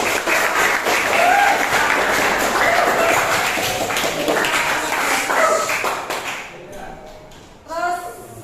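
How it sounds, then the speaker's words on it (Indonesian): Students in a vocational high school classroom applaud, a loud burst of clapping mixed with chatter that fades after about six seconds, leaving scattered voices. "Kita berikan tepuk tangan untuk terus"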